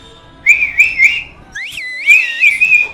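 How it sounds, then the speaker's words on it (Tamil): A man whistles without using his hands, a loud, close series of short shrill notes, then sliding, warbling pitches. "கை வைக்காம தான் விசில் அடிப்பேன் சொன்னார்"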